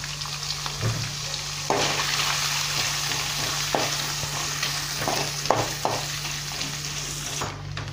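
Coconut pieces frying with turmeric in an oily pan for a Kerala beef curry, a steady close sizzle with intermittent scrapes and clinks of a stirring spoon throughout.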